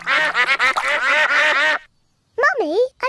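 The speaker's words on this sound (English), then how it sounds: "Peppa and George love feeding bread to ducks." Cartoon ducks quack at a pond in bursts of rapid, loud, nasal quacks, then a pause and a couple of bending honk-like calls close up.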